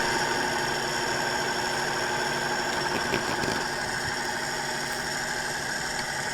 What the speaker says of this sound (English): So we're putting that in our food processor.